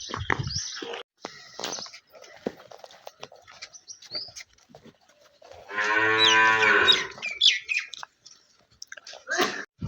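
Water buffaloes tied up indoors on a farm, lowing in a long, loud moo that rises in the middle, with scattered chewing, shuffling and faint bird calls around it.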